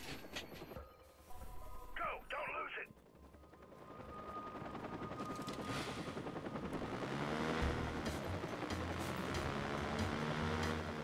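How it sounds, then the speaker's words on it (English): Helicopters in the video game Watch Dogs give a steady rotor drone that builds gradually and fills the scene, with a brief burst of other game noise near the start. "Now what about these helicopters?"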